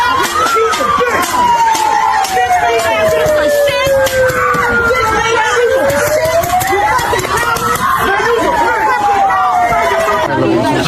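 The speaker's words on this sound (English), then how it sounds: "Massive crowd surrounding the freaking crime scene, impeding their duties" A massive crowd of protesters gathered around a crime scene during ICE protests, with loud continuous babble, shouting and cheering, and a siren wailing up and down throughout.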